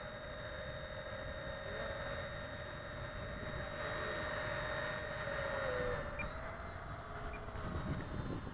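Freewing QF-4 RC model jet taking off, its electric ducted-fan whine steady and continuous at moderate distance, the pitch sliding slightly as it climbs away.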